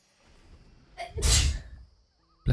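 A single sharp sneeze bursts out close by after a short intake of breath, then fades into quiet in a calm indoor room.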